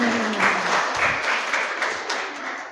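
An audience at the launch of a free business school breaks into applause, a dense, steady burst of many hands clapping that stays loud for a few seconds.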